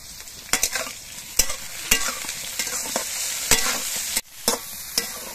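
Eggplant sizzles steadily in hot oil while a utensil stirs it, scraping and clacking against the pan in irregular, sharp knocks.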